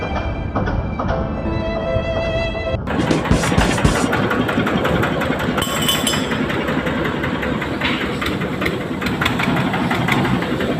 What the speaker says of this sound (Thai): อันนี้ก็เป็นเครื่องของลูกค้านั่นแหละครับ คันนี้แหละ แน่เสียงนิ่มเชียว